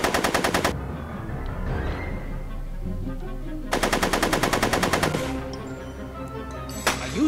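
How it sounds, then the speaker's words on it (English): Rapid automatic gunfire from the video game Back to the Future: The Game, with loud bursts at the start and middle and a shorter burst near the end, set over a steady droning game score. "Are you shooting at me?"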